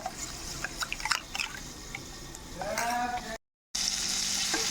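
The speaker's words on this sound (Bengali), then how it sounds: "এদিকে দেখো পটলগুলো ভাজা হয়ে গেছে" Pointed gourd (potol) frying in oil in a pan for a Bengali doi potol recipe, a steady close sizzle with occasional stirring clinks, heard alone.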